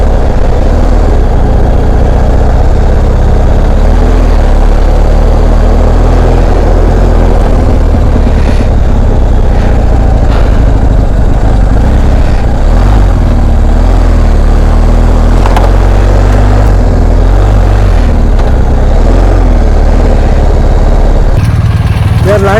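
Motorcycle engine running steadily throughout a test ride on the road, a continuous low rumble with shifting pitch and wind-like broadband noise, loud and close.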